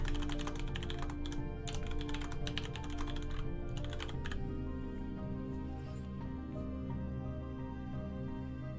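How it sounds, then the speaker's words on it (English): Rapid, steady typing on a very loud computer keyboard, dense clattering keystrokes close up over a continuous background of game music, with no talk. "I have a very loud keyboard."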